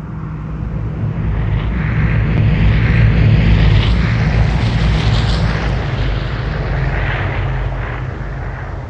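Airplane flying over in the video game Vigor, a loud, broad roaring rumble that swells toward the middle and holds steady without any talk.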